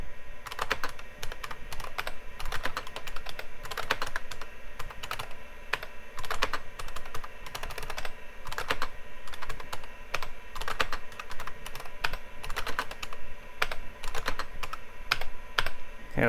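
Typing on an IBM PC XT 5160 computer keyboard, a steady stream of loud clacky keystrokes with an irregular rhythm, close and continuous for the whole stretch, no voices.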